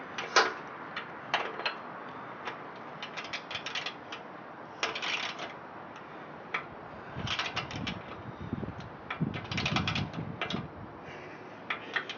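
A ratchet tightening a bolt on the live axle of a Craftsman tractor converted into a go-kart, giving bursts of quick metallic clicks in uneven runs, with some low rumbling handling noise between them.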